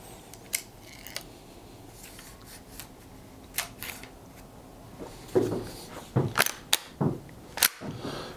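Sharp, short cracks from a relined 1890 Winchester .22 short rifle, fired at a target about 15 yards away outdoors, come as a loose series of separate reports, louder toward the end, over a faint background hiss.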